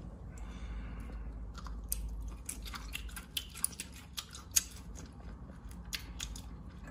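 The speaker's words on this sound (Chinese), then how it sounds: "把它剪下来几片" Kitchen scissors cut a large octopus head into pieces, giving a run of sharp, close snips and crunchy clicks, some louder than others, with no talk over them.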